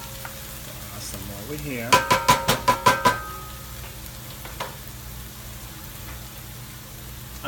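Sofrito frying in basting oil in a pan, a steady sizzle underneath with a quick run of about seven sharp scraping stir strokes midway, a person speaking briefly.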